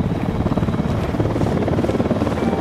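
A helicopter from the video game Ghost Recon Wildlands flies close by, its rotor chop a steady, loud, throbbing drone that holds for the whole stretch with no voices over it.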